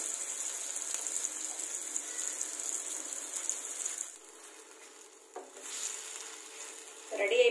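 Tempering for an amaranth and sorrel greens chutney hisses and sizzles steadily in hot oil for several seconds, then quietens, with a brief clatter near the end.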